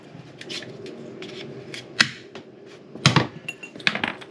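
A plumber cuts through a pipe while reworking a shower valve in a bathroom, giving short crisp snips and crunches with scraping and handling noise between them, fairly close and with no talk.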